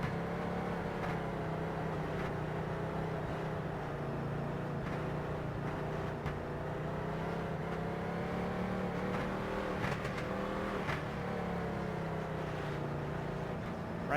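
Several late model race car engines in a sim racing game at The Bullring at Las Vegas drone steadily throughout, with overlapping engine tones rising and falling in pitch as the pack circulates, loud and continuous with no talk.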